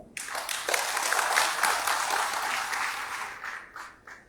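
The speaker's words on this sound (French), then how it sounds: "il faut féliciter et applaudir ce résultat" Sustained applause from a large crowd at an opening ceremony at the Palais du Peuple: dense, even clapping that swells, holds for several seconds, then thins into a few final claps.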